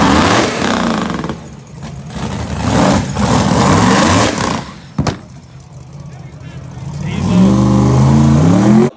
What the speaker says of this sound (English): car went into a burnout.